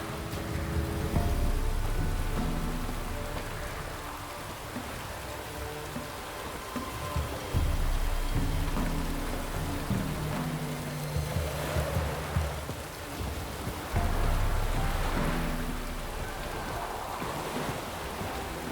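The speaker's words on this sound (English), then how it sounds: "Looks like rain." Rain in The Witcher 3 falls steadily and fairly loudly as a continuous wash, with a low rumbling bed beneath it and no talk.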